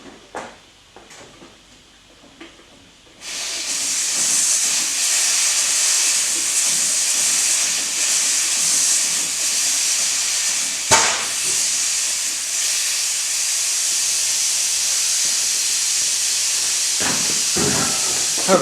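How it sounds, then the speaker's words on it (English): Steady, continuous air hiss from a slow leak in a tire changer in a workshop, starting abruptly after a few quiet clunks and holding loud and even throughout, with a brief knock partway through. "I have a slow leak somewhere over there in my tire changer."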